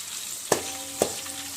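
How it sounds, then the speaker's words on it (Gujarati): Curry leaves and green chillies fry in oil in a pan while being stirred, giving a low steady sizzle with two sharp clinks of the stirring spoon against the pan. "લીલા મરચાં અને લીમડો તળાઈને એકદમ સુકાઈ જાય ને ત્યાં સુધી હલાવતું રહેવાનું"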